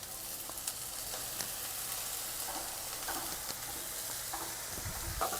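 Fried peanuts and a squeeze of lemon juice being stirred into a pan of sushila, the puffed-rice breakfast dish, giving a steady soft sizzle with faint scraping stir strokes throughout.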